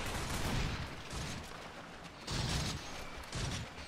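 Gunfire in the Space Station 13 game, rapid noisy bursts of shooting in rough pulses, fairly faint and distant-sounding, with no voices over it.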